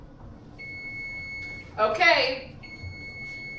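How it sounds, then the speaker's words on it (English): Kitchen timer beeping as a pizza finishes, a steady electronic alarm tone running through most of the clip while a brief burst of nearby talk rises over it midway. "The timer has spoken."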